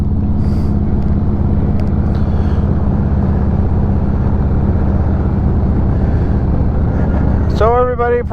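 Dan's motorcycle engine runs as a steady, loud rumble throughout, close by and unbroken, with a short burst of whining near the end.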